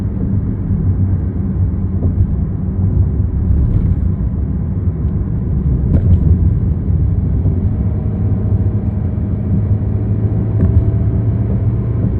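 A car cruising along Highway 50 at night, a steady loud low road rumble and engine drone with tyre noise, continuous and unbroken, with no voices.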